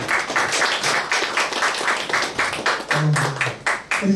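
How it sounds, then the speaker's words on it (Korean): Warm audience applause at a Christian forum in a lecture hall, steady dense clapping that keeps going without a break, with a brief voice surfacing near the end. "뜨겁게 박수 한번 다시 부탁드리겠습니다."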